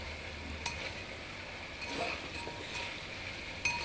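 Carrots going into a pot of simmering pork caldereta and being stirred, giving a soft steady sizzle with a few light clinks of the utensil against the pot, close and without voices.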